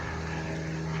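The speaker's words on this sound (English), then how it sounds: "I hate that airplane" A propeller airplane drones overhead, a steady, continuous low hum that holds an even pitch and loudness throughout, with nothing else standing out.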